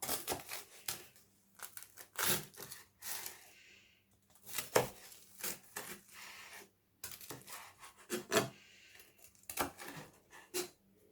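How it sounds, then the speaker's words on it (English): A knife trims the crusts off grilled cheese and egg toast, a series of crisp close crunching and scraping cuts in short bursts separated by brief quiet gaps. "Trim the edges off."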